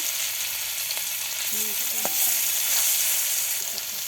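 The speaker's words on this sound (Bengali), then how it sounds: "তেল গরম হয়ে গিয়েছে তো এখন আমার মাছ দিয়ে দেবে নিজেদের রাখা মাছগুলো দিয়ে দিচ্ছে" Marinated fish frying in hot oil in a pan, a steady loud sizzle with a few soft clinks, close up and without voices.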